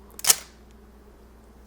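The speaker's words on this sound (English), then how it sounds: "Just listen to the sound of the shutter, guys." A single crisp mechanical shutter click from a film camera, close and sharp, followed by quiet, with a faint second mechanical sound at the very end.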